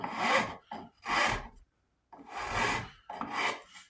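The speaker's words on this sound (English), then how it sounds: "But whenever you're using a rasp" A hand rasp files the wood of a .50 caliber St. Louis Hawken rifle stock in four raspy strokes with brief pauses, close and clear, each stroke cutting one way along the grain.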